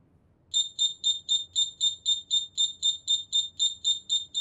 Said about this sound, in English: we are going to silence the alarm panel.